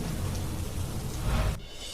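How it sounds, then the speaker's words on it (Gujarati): Heavy rain pours with thunder rumbling low beneath a steady broadband hiss, swelling briefly before cutting off abruptly, as roads begin to flood. "વરસાદી માહોલથી રસ્તા પર પાણી ભરાવાની શરૂઆત થઈ"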